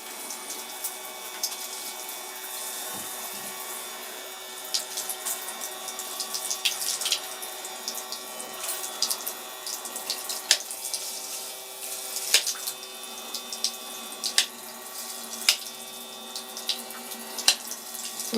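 A battery-powered portable shower sprays water steadily under a faint pump motor whine, with occasional splashes and drips, close and continuous.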